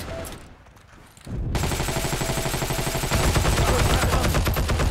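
Rapid automatic gunfire in a Heroes & Generals multiplayer battle, starting after a brief lull and then running as a loud, sustained stream of overlapping shots that grows denser toward the end.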